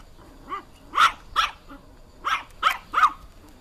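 Dog barking in a barn or yard with livestock being fed grain, six or seven sharp, fairly close barks in two quick bursts separated by a short pause, with little else around them.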